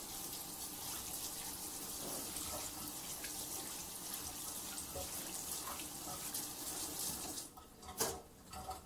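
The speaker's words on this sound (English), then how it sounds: "Just rinse out my hands." Tap water runs steadily into a sink while hands are rinsed, a close constant gushing splash that cuts off near the end with a brief clatter.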